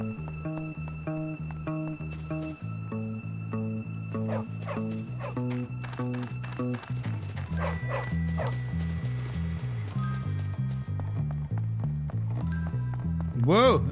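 A dog barks several times in the Bully video game, with short yips and whimpers heard over steady, looping game music.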